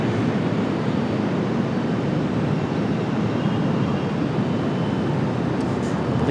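A Boeing 737-800 jet departs Raleigh Durham International Airport as a steady, broad roar of engine noise, moderately loud and distant, with no distinct change in pitch.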